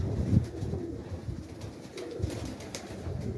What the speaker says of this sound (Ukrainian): Кажемо Вові, не кидай голубів, а він каже, ні